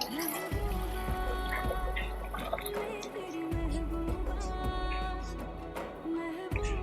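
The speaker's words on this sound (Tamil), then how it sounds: "இந்த சுட தண்ணியை பிரியாணியில் சேர்த்துக்கலாம்." Hot water poured into a pot of naati-style chicken donne biryani trickles softly and steadily, half buried under background music.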